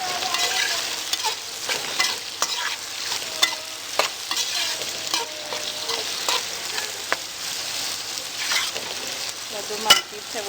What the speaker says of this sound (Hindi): अब हम इसमें प्याज जो ऐड करेंगे और इसको हम ब्राउन कर लेंगे